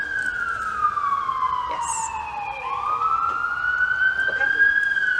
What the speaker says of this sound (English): Oh, we've got an ambulance going by.